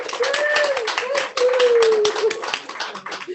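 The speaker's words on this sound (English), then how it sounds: "Can we have more applause?" Close, lively clapping from a small audience after a song, with a voice singing or calling out over the hands throughout.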